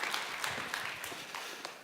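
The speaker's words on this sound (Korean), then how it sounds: "하나님께 함께 영광의 박수 올려드리겠습니다." A church congregation at a youth worship service claps together, fairly faint and somewhat distant, with scattered sharper claps standing out in an uneven rhythm and no talking.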